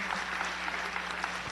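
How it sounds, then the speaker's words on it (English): Steady applause from a city council meeting audience, a dense even patter of clapping that holds at the same level throughout with no voices. "So a round of applause for Mr. Bowers."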